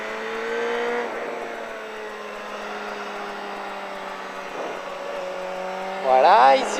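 A motorcycle on a race track accelerates on the throttle, a steady engine drone that rises in pitch and loudness near the end, with someone talking over it.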